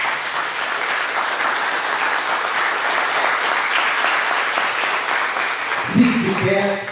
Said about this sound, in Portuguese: Diga glórias a Deus e aplauda Jesus.